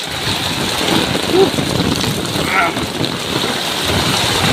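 Heavy rain and strong wind batter a waterlogged neighbourhood, making a steady, dense roar that holds at the same level throughout with no clear breaks.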